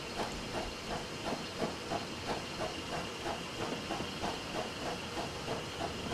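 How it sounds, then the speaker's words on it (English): Steady hiss from the water and steam injectors of a Merchant Navy Class steam locomotive in Train Simulator, a continuous loud rush with a faint regular rail clatter pulsing underneath and no voices. "hit the water and steam injectors"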